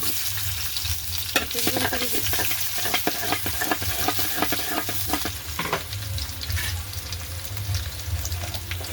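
Onions frying in oil in a cooking pot for a fish curry, a steady loud sizzle throughout with intermittent stirring scrapes and clatter, no voices.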